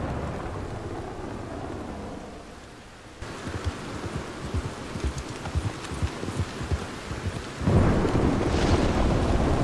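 Thunder rolling over a stormy landscape in Red Dead Redemption 2 after lightning strikes, steady rain hissing with rumbling bursts and a louder crack near the end; hoof clip-clop may sound beneath.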